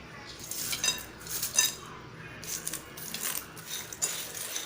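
Kara boondi being tossed with fried peanuts and curry leaves in a metal pan, giving a run of light, close scraping and clinking strokes of a spoon against the vessel with no talking.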